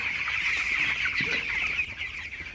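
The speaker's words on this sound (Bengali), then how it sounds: "আজকে হচ্ছে আমার ব্রয়লার মুরগির বয়স সতেরো দিন" A flock of seventeen-day-old broiler chickens clucks and chatters steadily in the morning, a dense, continuous twittering that sits close to the microphone with no talking.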